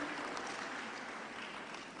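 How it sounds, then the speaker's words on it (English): Steady, dense clapping from a crowd at a primary school leaving ceremony, sustained and even throughout, with no voices standing out. "round of applause to welcome her"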